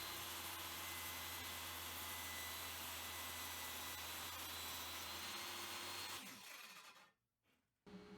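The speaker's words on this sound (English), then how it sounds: "I went ahead and did a test cut with a piece of walnut that I'm using to make the cutting board" A table saw cuts through a piece of walnut, its loud broadband roar steady for about six seconds before the blade spins down and the noise drops away, then briefly picks up again at the very end.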